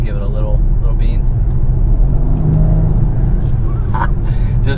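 A deep Mercedes-AMG V8 engine in a 2021 Mercedes-Benz GLC 63 Coupe rumbles close by with a brief rise in revs, over background noise and a few sharp clicks.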